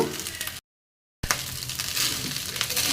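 Continuous crackling sizzle of food frying in a pan, broken by a brief silent gap, then resuming loud and steady.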